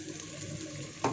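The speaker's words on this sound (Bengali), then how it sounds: "এই যে মিক্সিটা ধুয়ে একটুখানি জল দিয়ে দিচ্ছি" Tap water runs steadily while a mixer grinder jar is rinsed at a kitchen sink, with a brief louder splash near the end.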